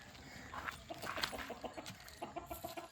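Chickens and chicks cluck in a series of soft, uneven calls, fairly quiet and close by, in a village yard.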